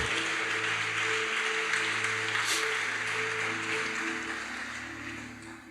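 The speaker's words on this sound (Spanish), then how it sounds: "Este aplauso es para el Señor." A church congregation applauds during a worship service, a sustained wash of clapping over a held, humming organ or keyboard tone that thins out toward the end.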